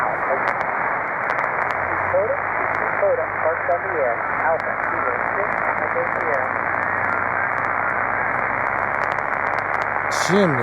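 Hissing band noise with warbling, sweeping tones and a low hum, no clear voices breaking through, on a Yaesu FT-891 ham radio during field day in a Dodge Ram truck.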